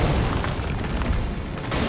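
Heavy booming blasts from explosive rounds in Resident Evil 3 Remake rumble continuously, with the dense, loud low-end explosions merging into one sustained roar.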